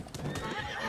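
A horse gives a short whinny over the clip-clop of its hooves, close by and fairly quiet, with no talk.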